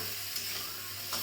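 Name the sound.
spices sizzling in oil while being stirred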